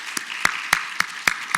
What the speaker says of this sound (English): I have one more round of applause for Marianne Abrams and a wonderful presentation